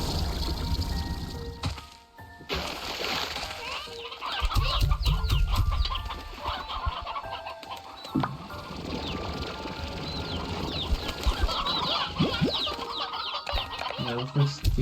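Many chickens cluck continuously in the video game Slime Rancher 2, with pouring and rustling sounds layered over the flock throughout.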